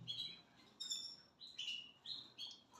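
A canary recovering from liver inflammation chirps in several short, high, bright bursts, close and clear against a quiet background.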